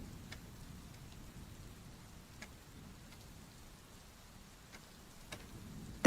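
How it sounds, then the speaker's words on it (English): Rain falls steadily during a thunderstorm, a soft, low hiss with occasional faint drips and ticks, quiet and distant, ending in a brief sharp bump. "there's a thunderstorm. Can you hear the rain?"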